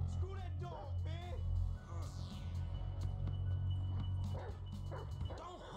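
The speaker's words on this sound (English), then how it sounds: "Screw that dog, man!" A dog in the video game GTA 5 barks and yips in short bursts, with whimpering and snarls between them, close and moderately loud, while a voice talks and shouts over it.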